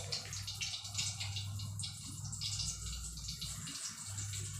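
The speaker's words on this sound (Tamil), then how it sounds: "அந்த மீன் கழுவி வச்சிடுறேன்" Running water splashes steadily while fish is rinsed in a home kitchen, a continuous close wash with a low hum underneath and no talking.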